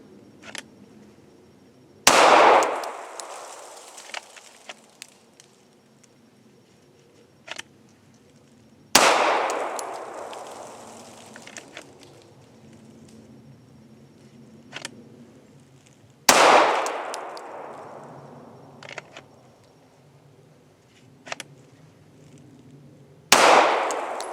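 Four sharp, loud handgun shots ring out several seconds apart during a draw-and-fire shooting drill, each crack followed by a long echoing decay, with small clicks and handling noises between them.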